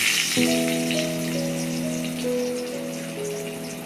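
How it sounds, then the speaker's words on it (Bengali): Chopped onion sizzles in oil in a cooking pot, a steady bright hiss that runs the whole time, with a sustained musical tone playing over it. "আমি প্রথমে একটু তেল দিয়ে দিলাম ডেচকিতে, পেঁয়াজ কুচি দিয়ে দিলাম"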